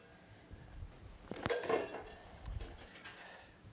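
A spoon stirring dressing and cilantro into a bowl of beans and chickpeas, giving a few light clinks and scrapes against the dish, one sharper knock near the middle, close but quiet.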